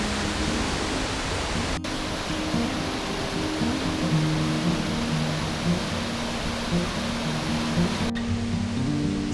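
Golling Waterfall in Salzburg, Austria, pours down in a loud, constant rushing roar of falling water, steady and close throughout.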